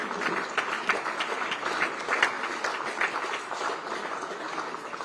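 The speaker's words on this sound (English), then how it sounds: "can we all stand up and clap for Mama?" A standing crowd at a higher education conference launch applauds steadily, a dense wash of many hands clapping at an even level throughout with no pauses.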